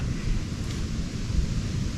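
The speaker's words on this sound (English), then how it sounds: "It was fine until the wind started gusting." Strong wind gusts buffet the microphone with low rumbling roar, steady and close, without any voices, outdoors during bowhunting in archery season in Pennsylvania.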